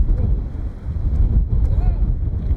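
Strong wind on the exposed mountaintop of Lushan in China, gusting and buffeting the microphone with a loud low rumble that never lets up.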